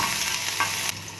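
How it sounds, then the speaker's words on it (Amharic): Sliced garlic fries in a little oil in a pan, giving a close, steady sizzling hiss that drops slightly toward the end, with no talking. "መጥበሻዬ ላይ ትንሽ ዘይት ጨምራለሁ። በቁመቱ የተከተፈ ነጭ ሽንኩርት"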